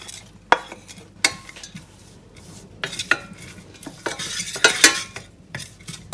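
Onions cooking in butter with a little salt in a large fry pan give a steady soft sizzle, broken by sharp scrapes and clinks of a utensil stirring against the pan at irregular intervals.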